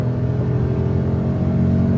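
A 1999 Honda Vamos kei van engine with a cable throttle hums and revs steadily in third gear, a continuous loud, close drone with low rumbling harmonics and no talk.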